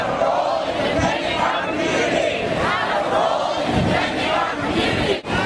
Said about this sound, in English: We have quite a crowd here.